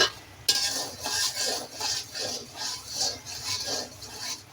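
A spice paste with ginger and garlic paste sautés in a pan, a soft sizzle under rhythmic scraping and stirring strokes with a few light utensil clinks.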